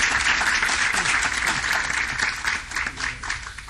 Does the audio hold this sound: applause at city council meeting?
yes